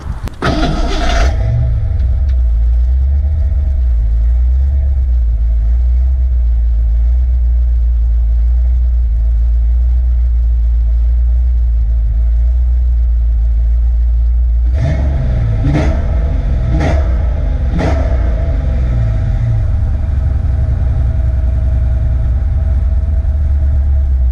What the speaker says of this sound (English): let's start it up real quick, see what it sounds like